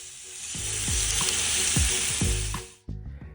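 Parmesan crusted lamb chops sizzle loudly in a pan, a dense hiss broken by a few clunks of stirring or flipping before the frying noise drops away near the end.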